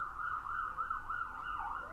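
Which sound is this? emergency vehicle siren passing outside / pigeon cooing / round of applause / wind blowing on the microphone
emergency vehicle siren passing outside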